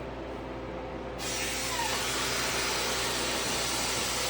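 Air rushes with a sudden, steady loud hiss as the vacuum valve on a home freeze dryer is released, following a quieter background hum.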